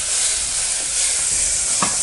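Tomatoes sauté in a pan for drumstick-leaf sambar, a loud, continuous sizzle with a single utensil tap near the end.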